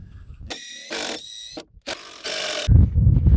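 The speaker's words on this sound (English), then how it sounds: "Luckily that top plate's put on with screws, so we can just unscrew from the bottom here" A power screwdriver backs screws out of a wooden wall's top plate from below, the motor whirring in several short bursts with brief pauses and some wood creaks and knocks between them.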